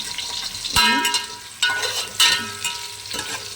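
Onions fry in a pan for biryani, a bright continuous sizzle broken by several scraping stirs of a spoon.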